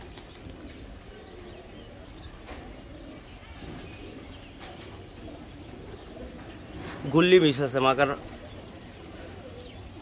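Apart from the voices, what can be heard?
pigeons cooing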